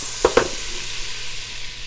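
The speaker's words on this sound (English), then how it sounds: "And it's sizzling because it's hot." Chopped onions frying in about two tablespoons of olive oil in a hot pot for French onion soup, with a steady loud close sizzle and a couple of brief stirring clacks at the start.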